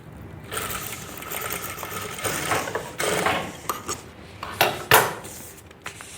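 A sewing machine stitches a designer blouse in a tailoring demonstration, running in uneven bursts of clattering mechanical stitching with short pauses, fairly close and moderately loud, with no talking.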